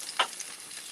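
Green peppers and onions frying in a pan, with one brief scraping stir burst near the start, then a steady faint sizzle.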